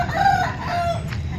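A native rooster crows once, loud and close, with a drawn-out call over low crowd murmur at a Sunday country chicken market in Boddam, Vizianagaram district.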